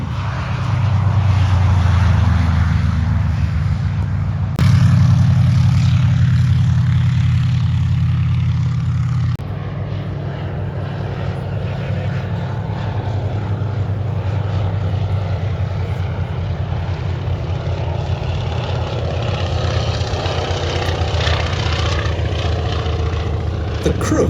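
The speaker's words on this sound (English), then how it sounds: "The Crook is a fascinating aeroplane." A Kruk agricultural aeroplane, a type first flown as a prototype in 1973, flies at an airshow in Leszno. Its propeller engine gives a loud, steady drone that stays continuous throughout with no voices.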